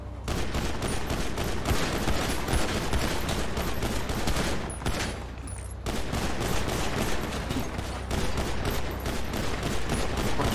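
A dense, nonstop fusillade of video game gunfire roars loud and close, with a brief dip midway before the rapid shots resume.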